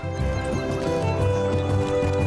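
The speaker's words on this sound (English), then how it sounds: "We are gonna be riding the horse a lot once again for time efficiency" A horse ridden at a steady pace in LOTRO, hooves clip-clopping in a quick even rhythm, close and clear over a constant tonal game backdrop.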